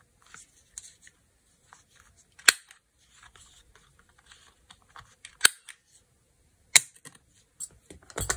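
Paper is cut into a tag shape with scissors, heard as quiet, sparse snips and rustles with three sharp louder clicks spread through the quiet.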